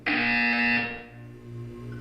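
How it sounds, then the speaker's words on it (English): A harsh electronic buzzer from the video game Portal 2 blares loudly for about a second, then fades into a low droning hum. "You will hear a buzzer."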